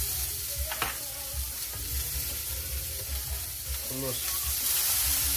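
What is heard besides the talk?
dumplings with shrimp and vegetables frying, sizzling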